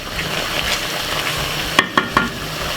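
Jamaican curry chicken with spinach being stirred in a pot, a steady low simmering sizzle broken by three sharp utensil scrapes and clinks close together near the end, no talking.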